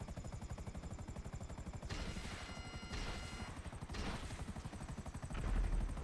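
A helicopter in GTA Online, its rotor chopping in a steady, fast rhythm throughout, close and continuous with no voices over it.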